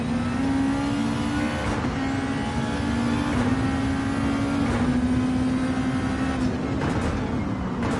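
Racing car engine in a Gran Turismo online race, a loud sustained high drone that rises and dips with gear shifts, close and continuous throughout with no talk.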